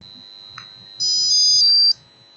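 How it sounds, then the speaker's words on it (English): A drop counter for blind people plays its start sound: a short electronic beep sequence of bright, rising tones lasting about a second, over a faint steady high whine and quiet background noise. "You will hear a start sound."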